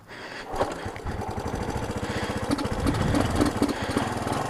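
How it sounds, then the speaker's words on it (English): A 1976 Honda CB125S motorcycle engine warming up, a steady, close single-cylinder putter with fast, even pulses that climbs slightly in pace and loudness as it holds a higher idle. "So run it at a slightly higher RPM just to get it warmed up"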